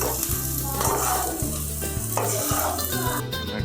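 Beef rice with pepper powder is stirred in a hot pan, an even frying sizzle under rhythmic scraping and clattering strokes of a spatula against the pan, close and clear with no voices.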